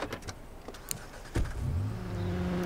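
A car in the video game Watch Dogs: a few clicks and thuds of getting in, then the engine starts and settles into a steady rising hum, close and clear without talking.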